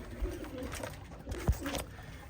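Pigeons coo softly in an aviary shared with quail, low murmuring calls under rustling and shuffling nearby, with a few faint bird sounds and no talk.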